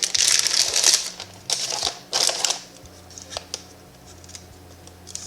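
Plastic packaging crinkles and rustles as a WiFi RGB LED strip light is unwrapped from its spindle and bag, with several loud crackling bursts early on, then lighter scattered rustles and ticks close to the mic, no talk.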